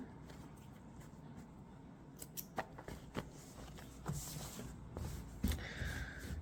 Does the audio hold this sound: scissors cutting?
yes